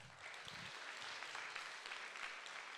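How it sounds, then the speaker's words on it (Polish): An audience at a Polish award gala applauds steadily, a soft, even wash of many hands clapping that holds for the whole stretch at moderate distance. "Ogromne brawa dla wszystkich Państwa."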